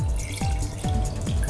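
Half a cup of water poured into a pan of chicken with salt and turmeric for chicken aviyal, giving a loud, close splashing gurgle in three or four quick glugging pulses over under two seconds, with no speech.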